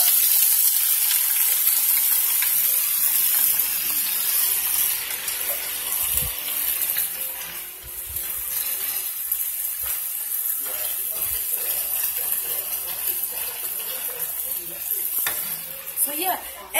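Bacon sizzles as it fries in a pan, giving a dense hiss that runs the whole time, strongest at the start and then settling into a steady crackle with occasional pops.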